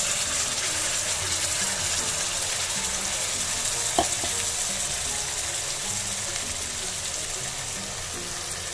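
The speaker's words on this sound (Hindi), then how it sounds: "और अब हम इसमें हमारी प्यूरी डाल देंगे।" Tomato puree hitting hot butter and oil in a pan while cooking paneer tikka masala gives a steady, close sizzle that continues evenly throughout with no talking.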